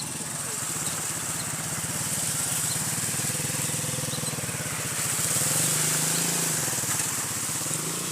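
Motorbikes labouring through flood water on a village road near a school, a steady engine drone lasting throughout with a louder surge partway through and voices underneath.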